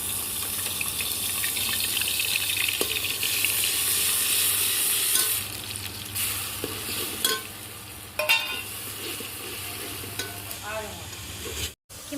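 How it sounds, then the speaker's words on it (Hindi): Continuous sizzle of ground spices frying in hot oil for a vegetable dish's tempering, with occasional stirring clinks and scrapes, steady and close, no talking. "अब हम सब्जी में तड़का लगा रहे हैं।"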